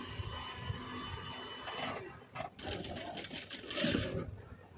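A sewing machine stitching a blouse neck design runs in fairly quiet, uneven bursts, with brief pauses and a short surge of faster stitching near the end.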